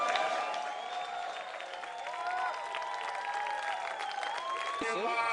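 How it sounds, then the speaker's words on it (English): A packed arena crowd at the MLG Halo 3 championship in Anaheim, California applauds and cheers continuously, a dense, steady roar of clapping with shouts rising through it at full loudness. "This crowd is crazy."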